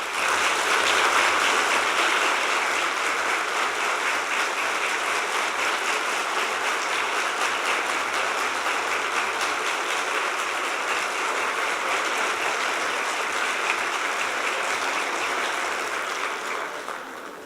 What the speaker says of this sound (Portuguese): todas essas palmas são para você